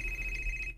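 A cellphone rings with a steady electronic tone held throughout the short moment, fairly close, with no voices over it.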